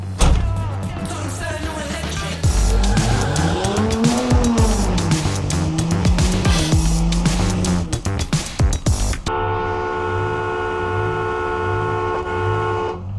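Hurricane-swapped Buick Grand National turning hard, tires squealing loudly in long wavering screeches under the engine roar, then cutting off into a sustained steady horn-like honk.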